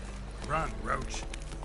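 Hooves of Roach, a horse in The Witcher 3, clip-clop at a run in a short burst, with a voice speaking over the hoofbeats.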